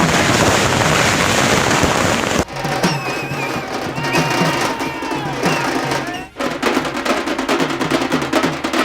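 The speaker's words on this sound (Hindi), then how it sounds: "इंदौर में पटवारी के आवास पर जमकर आतिशबाजी की गई और जश्न मनाया गया" Fireworks going off in celebration outside a residence in Indore, loud continuous crackling and bursts that drop away suddenly, followed by rapid popping and fizzing with crowd noise and voices mixed in.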